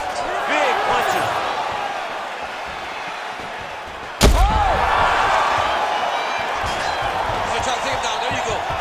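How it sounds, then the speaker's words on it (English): In the UFC 5 video game, a fighter is slammed to the canvas with a sudden heavy thud that shakes the octagon, cutting through ongoing commentary and crowd ambience. "he slams his opponent to the canvas"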